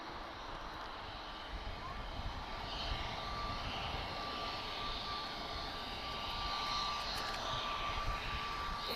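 An Airbus A330neo airliner arriving at Lisbon Airport after a long-haul flight from São Paulo, its jet engines a steady, fairly distant roar that swells slightly, with faint talk underneath.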